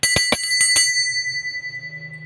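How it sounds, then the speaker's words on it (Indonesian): A small bell is struck five times in quick succession as a signal, with bright metallic rings that fade into a lingering decay, clear and close with no talking. "kita akan melanjutkan dengan tanda lonceng berbunyi"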